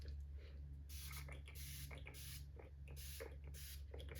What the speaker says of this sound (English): I'm gonna go in with a bit of setting spray